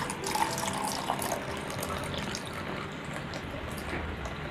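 Soup stock pours steadily into a bowl of beaten egg and minced pork for Thai steamed egg, a continuous close liquid splash with no talking.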